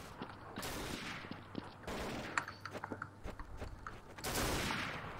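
Gunfire in a Counter-Strike: Source deathmatch game, rapid bursts of shots and sharp single cracks spread through the clip, fairly loud and close, with a dense burst near the end.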